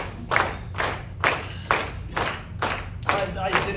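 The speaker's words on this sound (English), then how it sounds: "I didn't know you guys would be clapping as well" Comedy club audience breaks into clapping in surging bursts, close and loud, with crowd noise swelling and fading several times.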